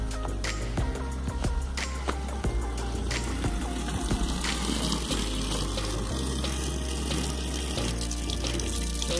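Water runs steadily from a tap at a mountain campsite in the Serra da Bocaina, a continuous splashing stream with sharp clatters and knocks on top, close and fairly loud, with no talking.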